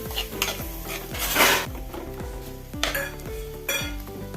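Crab pieces tossed with garam masala, ground pepper and salt in a pan, the spoon scraping and clanking in a steady rhythm of repeated strokes over a soft sizzle, close and fairly loud, with no talking.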